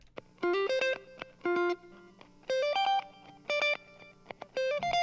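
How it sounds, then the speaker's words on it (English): An electric guitar plays short, choppy funk phrases through an Echo Boy delay effect in a garage recording of a five-piece funk band, crisp notes with faint repeats trailing after each burst. "it's getting sent to this guitar delay, which is an Echo Boy"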